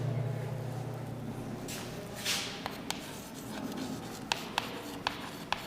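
Chalk or marker writing on a board during a lecture, soft scratchy strokes and rubbing followed by several crisp taps as letters are finished, quiet and close.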